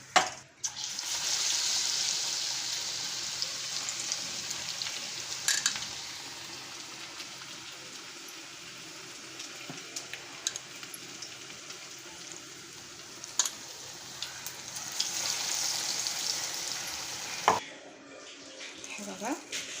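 Idli vadas frying in hot oil in a home kitchen: a steady, close sizzle and bubbling that runs almost unbroken, with scattered crackles and a brief clatter near the end.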